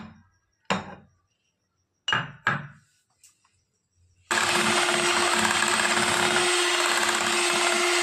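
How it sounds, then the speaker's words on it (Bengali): A few clinks and knocks of a container, then a kitchen blender roars to life and whirs steadily at high speed, mixing ice cream cake batter with about 250 ml of white oil. "আবার এটাকে অল্প ব্লেন্ড করে নিই"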